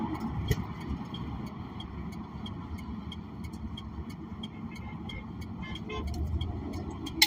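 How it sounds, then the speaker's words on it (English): Car horns honk in short scattered toots from passing traffic around a slow convoy on the highway, heard over continuous road and engine noise from inside a vehicle. "They're giving us the honking."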